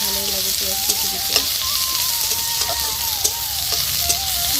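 Chopped onion hitting hot oil in a wok while greens are being cooked at home, giving a constant bright sizzle with light stirring clicks, close by. A faint tonal hum runs underneath, and no one speaks.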